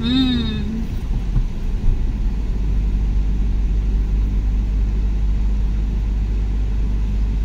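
Steady low rumble of a car engine climbing a winding hill road, continuous and fairly loud throughout with road noise and no pauses.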